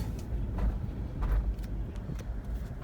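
A five-speed Toyota 4Runner in four-wheel drive turns slowly on concrete, giving a steady low rumble with a few brief scrubbing swells rising over it, close by and with no talking.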